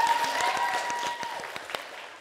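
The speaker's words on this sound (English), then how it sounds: "Give yourselves a clap." An audience at a stage workshop claps for a couple of seconds, the applause tapering as individual hand claps become sparse, with a faint tone lingering under it.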